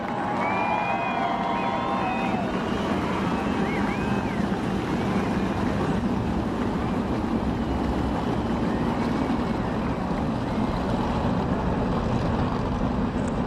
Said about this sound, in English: the USAC CRA cars are on parade